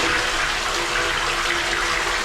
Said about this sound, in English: They're very efficient with how the water flushes